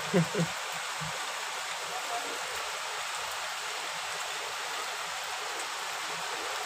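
Heavy rain falling in a steady, faint hiss, with a few brief low thumps near the start and no clear talking over it.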